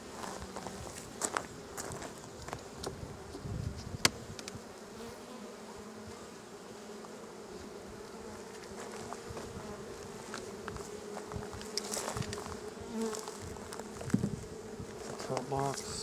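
A busy cloud of honey bees hums around open hives while frames are moved into nucs, the buzzing steady and near, broken by scattered knocks, shuffling steps and handling noises.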